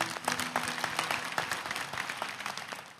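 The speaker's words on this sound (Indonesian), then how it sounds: "kasih tepuk tangan dulu untuk Tuhan" A congregation in a church gives God a round of applause: steady, moderately distant clapping from many hands, continuous for several seconds.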